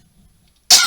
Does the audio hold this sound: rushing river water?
no